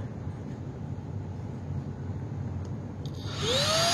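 A vacuum cleaner motor runs steadily at maximum suction, a loud constant broadband drone with no talk, rising to a sharper whine near the end.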